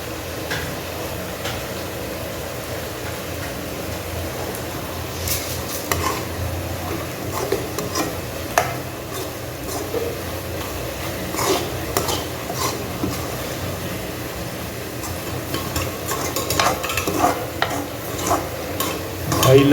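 Milk thickens in a pan for rolled coconut candy as a spoon stirs and scrapes the sides and bottom, making repeated rough scraping strokes and clinks over a constant low sizzle.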